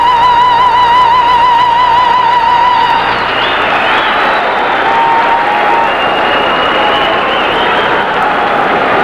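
A hockey arena crowd at an exhibition game between Sokol Kiev and the Maine Mariners bursts into sustained applause and cheering as the anthem's final sung note fades, a dense roar that holds steady throughout.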